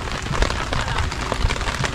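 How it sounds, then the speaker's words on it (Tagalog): Steady rain pattering on surfaces around a campsite, a dense even hiss with scattered soft drop taps close by, no voices. "Ngayon lang tayo nakapag-rest day at eto pang nangyari, umuulan pa."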